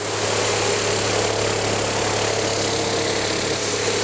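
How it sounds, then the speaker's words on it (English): A tumbling machine deburring and finishing metal riser parts in a factory gives a loud, continuous, unchanging mechanical drone with a low hum running throughout. "And what we're tumbling for is to improve the microfinish, and we're also eliminating sharp edges."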